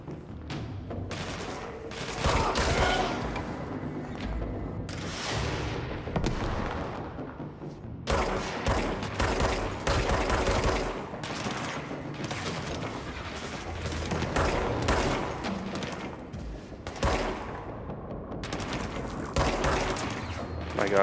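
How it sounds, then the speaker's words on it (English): Gunfire in the video game Control, a dense run of loud repeated shots and impacts over about twenty seconds, with brief pauses and no clear voices. "My gosh, I'm shooting the wall."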